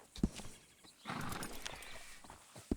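A horse in Red Dead Redemption 2 whinnies and clops its hooves, sharp hoof thuds at the start and end around a louder neighing burst in the middle, fairly quiet and with no talk.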